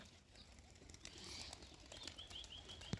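Pigeons flap their wings in a flying display, a faint rustling flutter of wingbeats heard at a distance under light outdoor background, with a few soft chirps near the end.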